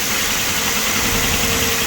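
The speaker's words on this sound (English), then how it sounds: "I just run the engine and checking if there's a leak" A 2007 Ford Explorer engine idles at close range while coolant leaks are checked, giving a steady, even mechanical drone with a low rumble that holds without change from start to end.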